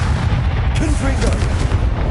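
Blasting fire spell explosions going off in a Harry Potter wizarding video game, heavy continuous booming rumble filling the clip, with voices shouting over it.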